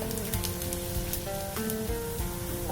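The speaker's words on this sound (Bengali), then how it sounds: "জিরেটা আমি একটু হালকা ফ্রাই করে নিই" Cumin seeds lightly frying in hot oil, a steady close sizzle and crackle with faint pops running evenly throughout, no voices.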